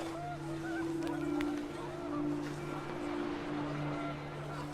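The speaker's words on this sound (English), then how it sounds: "panicked geese appeared and quickly went" Panicked geese honk from a scene in the video game What Remains of Edith Finch. Sustained tonal honking runs steadily under a constant wind-like ambient bed, at moderate loudness, with no voices.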